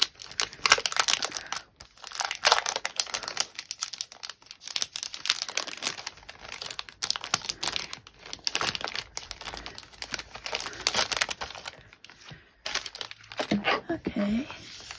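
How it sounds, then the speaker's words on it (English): Plastic sticker packaging from a planner subscription box is opened and handled up close, giving loud, irregular crinkling and rustling with short pauses throughout, and a voice speaks in between. "So let me go ahead and open the stickers."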